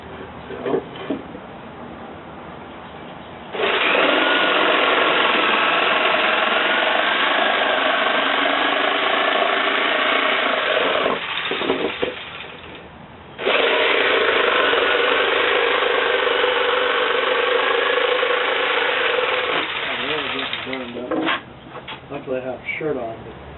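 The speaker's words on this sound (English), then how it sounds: "A little jigsaw, and that should do just fine. That'll also be a little bit noisy, but not quite as much." A small jigsaw cutting wood for a stockade fence gate, running loud and steady in two long passes separated by a brief pause, with a rattling buzzy tone and short stops at the end.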